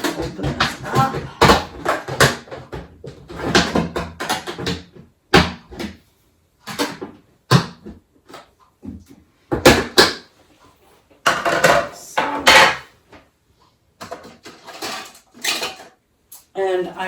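A 5-gallon plastic pail of lye being opened for cold process soap making, a series of loud knocks, clatters and plastic lid pops in bursts separated by short silences.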